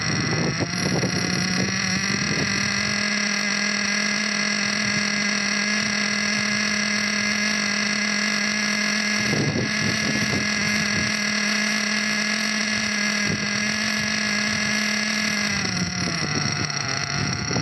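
A small engine idles during its break-in with a constant, steady drone and a high whine on top, close and loud. The pitch shifts slightly near the end, and no one speaks.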